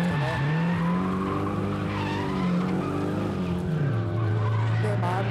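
A drift car drives on the Honjo circuit, its engine droning loud and continuous, with long tire squeals and pitch shifting as it slides through the corners.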